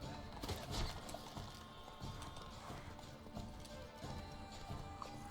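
Roach the horse gallops in The Witcher 3, a steady clip-clop of hooves running continuously at close range with no talk over it.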